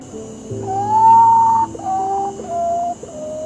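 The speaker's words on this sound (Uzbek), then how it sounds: "Ulkan tun qushi." A great potoo, a large nocturnal bird, gives a loud series of drawn-out, tonal calls, each held steady then dropping in pitch, with three or four notes following one another clearly and alone.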